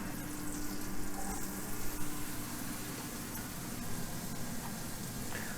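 Mushrooms frying in hot olive oil and butter in a pan, a steady, close sizzle and crackle with no one speaking.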